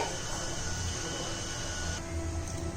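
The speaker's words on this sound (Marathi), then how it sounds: "आणि मिक्सरमध्ये आता मी फिरून घेते" Mixer grinder whirring steadily as it grinds garlic chutney with chilli and salt, a continuous close mechanical drone throughout.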